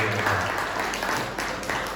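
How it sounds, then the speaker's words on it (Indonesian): Church congregation clapping in praise to God during an Easter celebration service, a dense steady patter of applause filling the room for two seconds with some voices mixed in. "Tepuk tangan untuk Tuhan."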